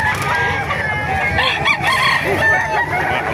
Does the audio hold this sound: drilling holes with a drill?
no